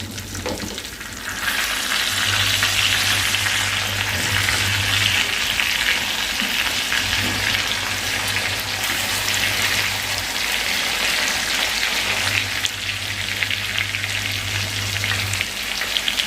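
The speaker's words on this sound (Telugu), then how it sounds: "ఇవి కూడా ఫ్రై అవ్వాలి బాగా" Chicken pieces for mandi biryani frying in oil, a loud continuous close sizzle and crackle with faint stirring, running the full length without talk, a low background hum coming and going.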